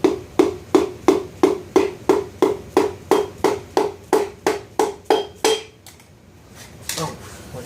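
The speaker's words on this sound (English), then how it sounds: "now I'm going to want to tap that down" A Chevy piston is tapped down through a ring compressor into the engine block with about fifteen evenly spaced, ringing metallic knocks, close and loud, before a brief clatter and quieter handling.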